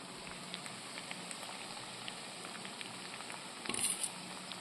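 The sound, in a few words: grated coconut added to hot pan, sizzling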